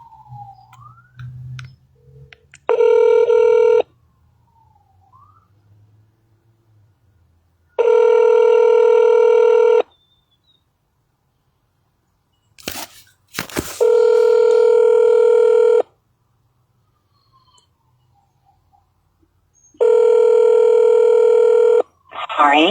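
Telephone call with touch-tone dialing and repeated ringback tones, four long steady bursts separated by near-silence, plus a sharp click midway and faint background voice.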